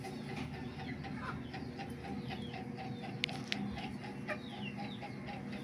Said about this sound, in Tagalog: Talagsaon ra kay ini nga manok no?